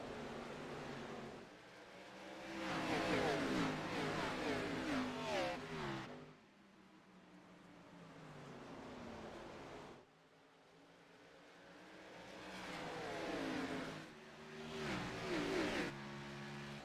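Race cars roaring around Richmond Raceway in a racing video game, engines swelling and fading in repeated passes with rising revs, fairly quiet overall and without talk.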